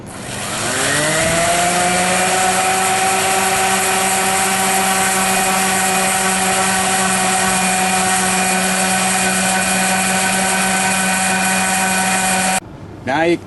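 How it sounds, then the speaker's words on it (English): An orbital sander sanding wood for an agave didgeridoo whines loudly and steadily for several seconds, a constant high buzzing drone that cuts off abruptly near the end. "I use an orbital sander because it's a lot easier than doing it by hand."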